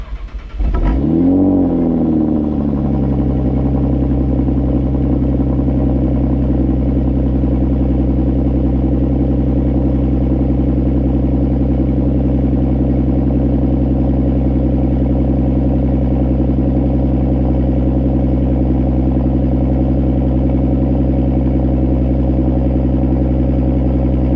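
Audi A6 3.0T with Borla exhaust and Borla S-type rear mufflers fires up cold, a brief starter crank flaring into a loud rev before settling into a steady, deep, rumbling high idle that holds close and unbroken throughout.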